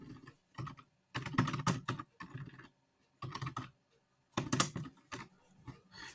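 Quick bursts of keystrokes on a computer keyboard as a database query is typed, clustered in short runs with brief pauses between them, close and fairly quiet, with no voices.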